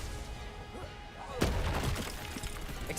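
A Confringo fire spell is cast in Hogwarts Legacy. A single sharp, explosive burst hits partway through and rings out briefly over quieter game ambience.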